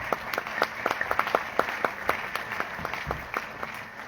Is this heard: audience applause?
yes